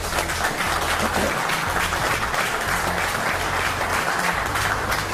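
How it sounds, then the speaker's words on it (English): Loud, dense applause from a crowd at a live car-detailing class during a detailing festival, a continuous wash of many hands clapping at once that holds steady throughout. "I'd like a big round of applause to these guys."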